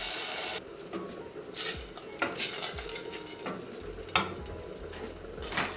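Onion and pasta sauce cooking in a pan, a soft sizzle under scraping and stirring, with several sharp clinks of a utensil against the pan.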